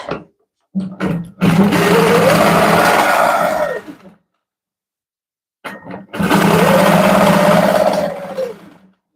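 Quilting machine stitching in two long runs, each a loud steady motor whir with a rising and falling pitch, separated by a brief pause and short clicks.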